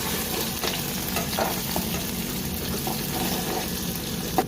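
Chopped onions fry in hot oil in a bowl on a stove, a steady close sizzle with scraping stirs and occasional clinks of the spoon against the vessel, no voices.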